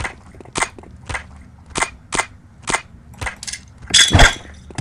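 Postal 2 video game grenade combat, with a series of sharp, loud, cracking blasts in an uneven rhythm and a heavier burst near the end, no talking.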